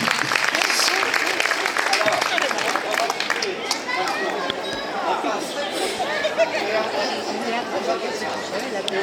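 Audience at a tap dance show at a forum in Aulnay-sous-Bois clapping for young tap dancers, dense applause mixed with crowd chatter and a voice talking throughout.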